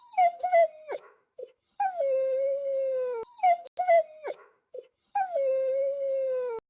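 A dog howls and whimpers in two long, near, drawn-out wailing phrases with short yips between them, standing alone with no voices.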